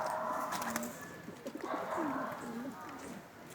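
Pigeons coo in a loft, several low rolling calls repeating under someone talking nearby.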